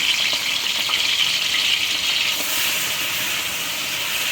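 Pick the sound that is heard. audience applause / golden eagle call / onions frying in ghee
onions frying in ghee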